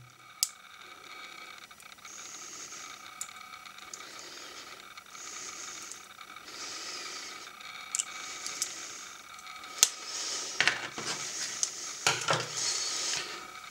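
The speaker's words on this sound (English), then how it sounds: "Now all we need to do is peel it off the 10p coin" Soft crinkling and peeling of a thin cut filter film being lifted off a 10p coin, faint tacky rustles with a few small ticks and taps, close and quiet.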